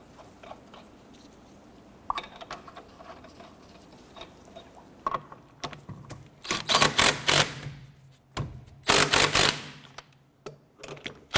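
Lug nuts being snugged down on a rear wheel of a 2006-2013 Chevrolet Impala, heard as a quiet stretch and then two loud bursts of rapid mechanical clicking and rattling, close by.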